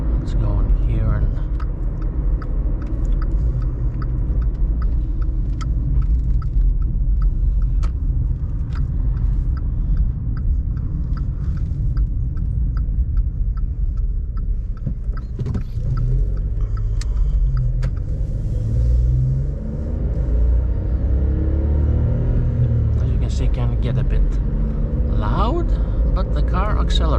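A VW Up 1.0 60hp small car accelerates from inside the cabin, its engine rumbling steadily under continuous road noise while someone talks over it.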